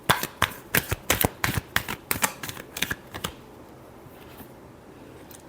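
Tarot cards being shuffled in a quick series of crisp, riffling snaps, loud and close, before the shuffling stops and a quiet pause follows.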